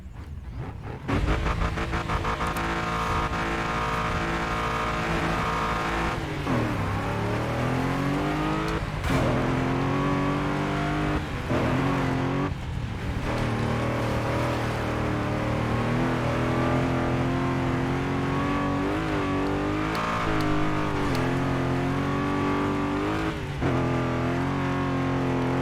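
Race car engine in a racing video game revving hard and continuously, its pitch climbing and dropping through gear changes and corners, loud and steady throughout with no pauses.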